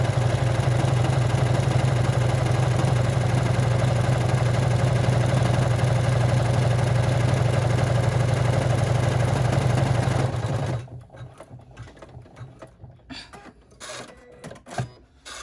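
An embroidery machine stitches the tack-down step on a bag flap with an inset zipper pocket, a loud steady mechanical whir running for about ten seconds before stopping abruptly, leaving quieter handling clicks and rustles.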